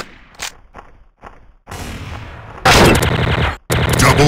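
Bursts of rapid TMP submachine gun fire from the video game Special Ops, starting with a few short separated shots and building into loud, dense sustained volleys with a brief gap between them.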